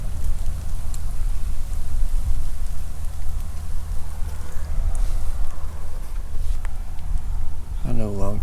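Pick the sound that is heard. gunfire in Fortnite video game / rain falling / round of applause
rain falling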